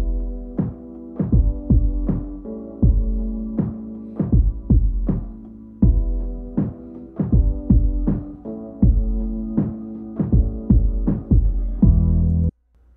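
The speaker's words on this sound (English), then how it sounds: "It should sound a lot more muffled than before." A music track played through a 250 Hz low-pass filter comes across as dull, muffled thumping beats over a low hum, pulsing in a steady rhythm with the upper detail stripped away.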